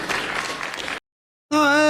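A crowd applauds during a session of Brazil's National Congress, with about a second of dense clapping that cuts off abruptly, followed by a voice.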